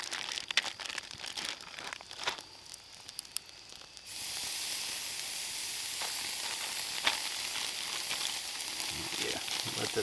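An 18-ounce marinated ribeye steak sizzling over an open campfire while backpack camping: a quiet crackle at first, then a steady loud hiss and sizzle that fills the rest of the clip without a pause.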